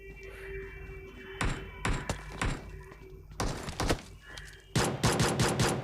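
Gunshots in a shooter video game, with a pistol among the weapons, come as several sharp, loud bursts spread across the clip, the last few firing in quick succession.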